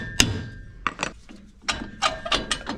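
Hammer blows striking metal parts of a boat trailer during keel roller and winch modifications, several sharp irregular knocks spaced apart, close and fairly loud with faint mechanical clinks in between.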